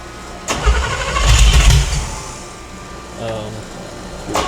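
A freshly built 350 engine on a dyno cranks and catches, firing up with a short loud burst before settling into a rougher idle, with people talking close by.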